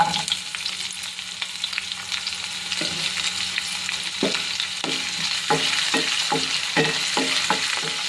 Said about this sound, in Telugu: ఉల్లిపాయలు బాగా వేగాలి ఇలా